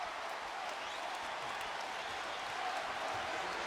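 Basketball arena crowd noise during a Celtics–Lakers NBA game, a steady dense roar of cheering fans rising to their feet, loud and continuous throughout without a break.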